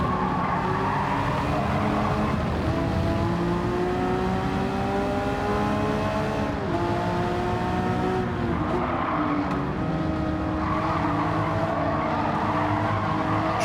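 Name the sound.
Porsche 911 GT3 race car engine, Gran Turismo 7 video game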